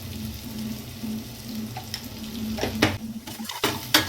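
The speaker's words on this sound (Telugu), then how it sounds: "చేసుకొని ఫ్రై చేద్దాము" Boneless chicken pieces fry in a pan with a steady, close sizzle and crackle, punctuated by a few sharper stirring clatters toward the end and no talking.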